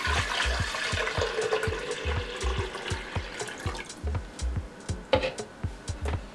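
Water poured into a full size blender jar for a smoothie makes a steady splashing trickle with repeated low thumps, close and fairly quiet, with no talking over it.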